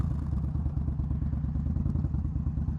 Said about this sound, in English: This stupid motorcycle's gotta be in neutral to start. That one just kinda starts.